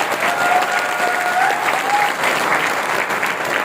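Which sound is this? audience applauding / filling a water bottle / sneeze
audience applauding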